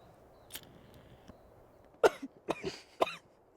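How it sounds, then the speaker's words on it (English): A person lets out a short burst of three or four dry coughs close by, after a quiet stretch with only faint background noise. "Even Willie Nelson and Snoop Dogg cough from time to time."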